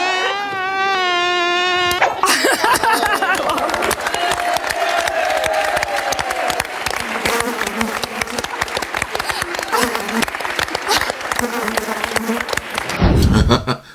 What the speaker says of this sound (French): on a une mouche qui gigote